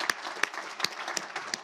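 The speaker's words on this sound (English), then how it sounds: "So let's give them all a round of applause because they are here." An audience at a panel discussion on online speech gives the panelists a brief round of applause. It comes as a sparse, fairly faint sequence of separate claps spaced at a steady, unhurried rhythm.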